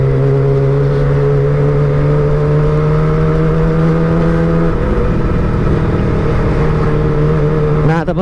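A Kawasaki ZX25R fitted with a local Purbalingga aftermarket exhaust idles loudly then revs, its steady drone shifting pitch midway, close and continuous without talk.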